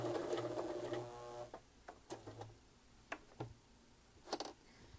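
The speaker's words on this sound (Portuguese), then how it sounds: "Faço a costura manual da máquina." A sewing machine stitches a cloth rag doll, running steadily for about a second and a half, then breaking into short intermittent bursts of stitching with quiet pauses between them, close by and moderately loud.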